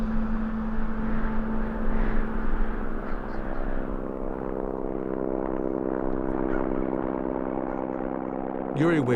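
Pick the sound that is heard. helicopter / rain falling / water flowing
helicopter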